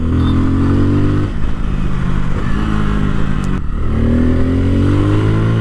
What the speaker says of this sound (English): Oh wow, nice acceleration, and the sound of the exhaust is really soothing, man. Quite heavy bass there from the exhaust.